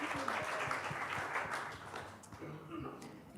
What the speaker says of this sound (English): Give yourself a big round of applause for finishing off the conference.